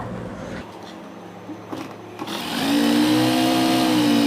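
A sewing machine stitching a trouser: quiet handling noises at first, then the motor starts up and runs steadily in a continuous whirring hum for the last couple of seconds.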